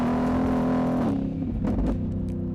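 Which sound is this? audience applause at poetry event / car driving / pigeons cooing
car driving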